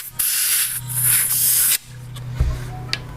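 Compressed air hisses loudly into a GoPed rear wheel tire through the valve stem in one long steady burst, then cuts off, followed by a few faint handling clicks and knocks.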